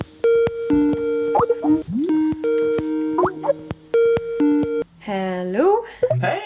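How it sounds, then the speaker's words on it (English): A telephone rings with a bright electronic ringtone: short tonal bursts in a repeating, stepped melodic pattern, loud and close, ending in a rising warble. "Ooh, phone."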